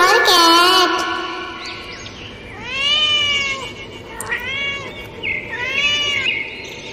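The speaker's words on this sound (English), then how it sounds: "C for cat." Three loud, drawn-out cat meows with a gap between each, up close, after a brief higher-pitched call at the start.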